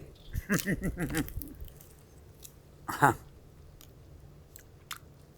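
Close-up chewing and crunching on a smoked goat bone, sharp crunches with a burst of bites early on and another loud crunch a moment later, with quiet gaps between.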